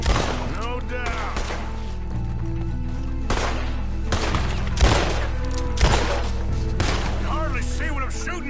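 Gunfire in the video game Red Dead Redemption 2, a string of sharp shots roughly every second with echoing tails, loud and close over a sustained background drone, with a few louder cracks near the middle.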